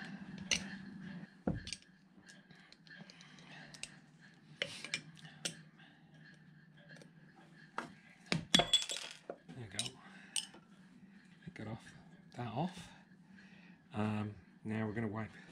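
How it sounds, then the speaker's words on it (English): A small screwdriver prying the water pump cover off a Yanmar 3GM30 marine diesel, faint metallic clicks, taps and scrapes scattered irregularly under a low hum. "So get it off with a little screwdriver."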